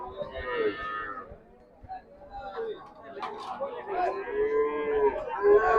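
Cattle and calves moo repeatedly in long, low calls, several animals at once, amid a busy crowd murmur at a Qurbani cattle market in Keraniganj.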